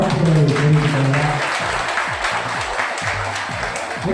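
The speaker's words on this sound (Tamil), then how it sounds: "மிகப்பெரிய ஒரு கைத்தட்டல் மூலம் வாழ்த்துக்களை தெரிவித்துக் கொள்ளலாம்" An audience at a community gathering in Tiruvannamalai gives a round of clapping, steady and fairly close, while low voices murmur underneath as it gradually thins out toward the end.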